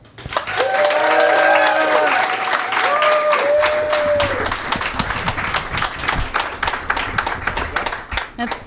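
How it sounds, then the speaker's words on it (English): A crowd applauding and cheering loudly for a performer being introduced on stage, with whoops and a voice calling out over the clapping, then the applause continues steadily. "make a lot of noise for Skylar Bear."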